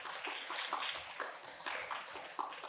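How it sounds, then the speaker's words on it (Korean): A church congregation at a special prayer meeting claps in thanks, a faint, steady wash of many hands with some individual claps standing out, heard from a distance with no talking. "우리 이분들을 위해서 큰 우리 감사의 박수, 찬양의 박수를 한번 올려주시기를 바랍니다."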